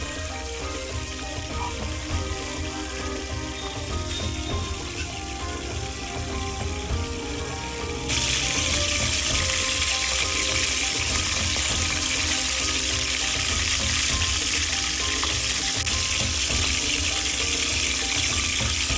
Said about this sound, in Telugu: ఇలా బాగా నూనెలో వేడి చేసి వాటిని బయటికి తీయాలి.